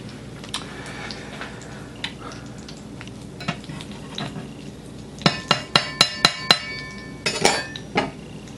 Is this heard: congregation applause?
no